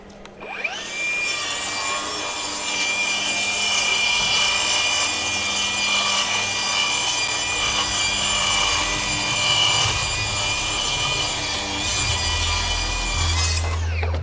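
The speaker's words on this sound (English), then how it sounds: "Here we got three stacked 1/2 inch OSB, and I'll show you guys the power." A Milwaukee power saw cuts through three stacked half-inch OSB boards in one loud, steady whine with a grinding bite into the wood, starting and stopping sharply, with no talk.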